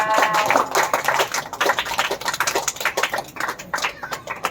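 A church congregation at a Christmas gathering in Nellore claps loudly and irregularly, many hands at once, with a voice faintly under the clapping.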